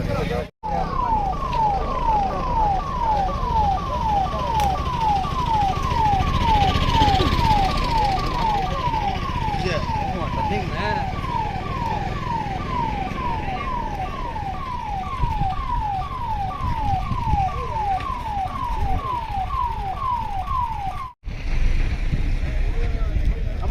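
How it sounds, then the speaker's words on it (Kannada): An ambulance siren wails at a road accident scene after a car tyre blast and rollover, a loud rapid rising-and-falling warble running steadily for about twenty seconds over low background noise and road rumble. "ಇದು ಆಂಬುಲೆನ್ಸ್ ಓಡಿಸ್ತಾರಲ್ಲ ನಾಗರಾಜ್ ಅವ್ರದಲ್ವೇನಮ್ಮ"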